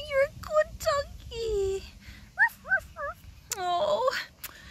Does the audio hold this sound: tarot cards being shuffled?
no